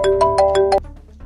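A guard's phone rings with a tonal electronic melody of about five quick pulses. It is loud and close, then cuts off abruptly into quiet room tone.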